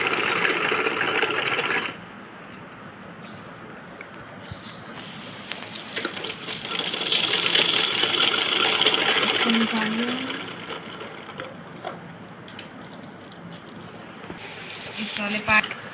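A sewing machine stitches a garment, a steady dense whirring that runs throughout, pausing briefly and then surging louder, with a voice talking over it.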